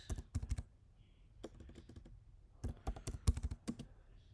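Keys tapped on a computer keyboard while an IP address is entered in a network lab, in uneven bursts of close, crisp clicks separated by short pauses, with no talking.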